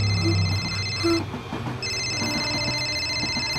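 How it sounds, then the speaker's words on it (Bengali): Telephone ringing at a railway station in a crime drama: a bright, repeated electronic tone that breaks off briefly and resumes, over a rumbling station background with no talk. "হ্যাঁ অঞ্জলি, ফোনটা দে।"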